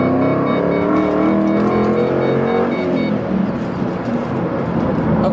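A 2005 Ford Mustang GT with a five-speed manual accelerates hard, its engine roaring loud and close with rising harmonics before the pitch settles as the car reaches speed.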